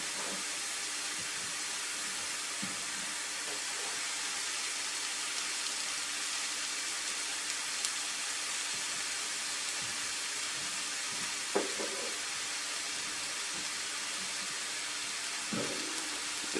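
Diced onion fries in butter and olive oil for a venison dish, a steady soft sizzle and hiss going on throughout, with a few faint clinks from the pan and no voices.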